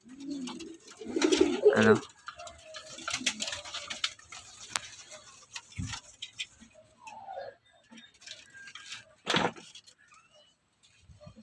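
Pigeons in a loft giving a few soft, low coos amid scattered ticks, knocks and shuffling, with a person speaking briefly in between.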